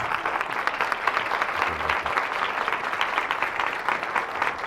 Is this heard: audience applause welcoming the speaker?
yes